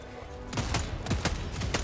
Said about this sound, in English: you can see the autocannon is able to shoot down enemies from super far away